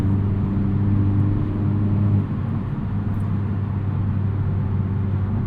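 A 2022 Hyundai Elantra N with a dual-clutch transmission drones steadily from inside the cabin while driving. The engine note holds low and loud, then eases and shifts in tone partway through, with no voices.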